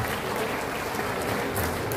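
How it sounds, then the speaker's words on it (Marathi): Audience applause at a school prize ceremony, steady dense clapping throughout, moderately near and filling the space with no voices on top. "टाळ्या वाजून त्यांचं"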